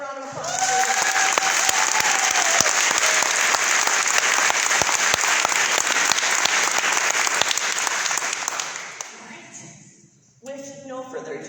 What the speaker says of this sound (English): So can I have a round of applause for them?